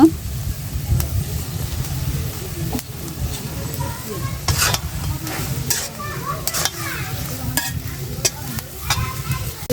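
A vegetable and fish curry of potato and eggplant fries in a pan, sizzling loudly and steadily up close while a spoon scrapes and stirs in repeated strokes, with faint voices in the background.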